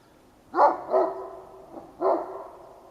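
A dog barks in three loud, close, sharp barks, two in quick succession followed by a short pause and then a third, with quiet background between them.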